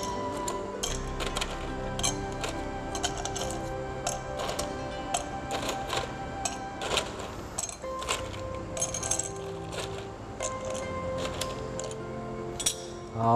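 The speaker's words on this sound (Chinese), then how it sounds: "八分满的冰块。" Ice cubes clink and rattle as they drop into a glass for iced coffee, filling it about eight-tenths full. Busy, repeated clattering runs steadily for the whole stretch, with faint tonal background sound underneath.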